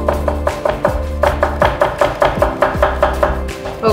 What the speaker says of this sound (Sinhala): අමු මිරිස් එකත් හීනියට කපා ගන්න